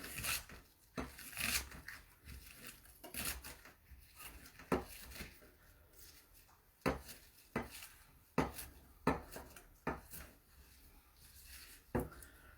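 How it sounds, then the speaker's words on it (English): A kitchen knife rocking through baby bok choy on a cutting board, making a string of sharp, irregular taps and scraping rasps, close and fairly quiet, with no speech. "What I'm doing right here is rocking my knife, and I'm keeping the end of my knife on the cutting board the whole time."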